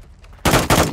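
Two sharp, loud bursts of gunfire from the video game Call of Duty follow a quiet lead-in, the second coming close behind the first.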